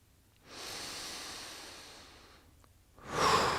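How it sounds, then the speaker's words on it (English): Deep breathing in and out through the nose during a seated stretch: a long, close, airy inhale-exhale lasting about two seconds, then a brief pause and a stronger, louder breath starting at the end. "we're just breathing in and out of the nose,"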